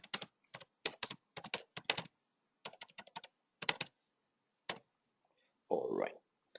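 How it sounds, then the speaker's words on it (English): Typing on a computer keyboard, quick bursts of crisp key clicks in uneven clusters with short pauses, close and fairly quiet, ending with a brief rustle. "let me just type that. Let me just type that very quickly."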